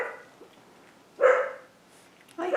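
Puppies bark in short yips, two to three bursts spaced about a second apart over quiet room noise, moderately close and with no talk.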